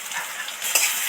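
Spices stirred into hot oil with vegetables for a Bengali katla fish curry with okra, giving a steady soft sizzle and frying hiss that swells as stirring scrapes through, close and alone.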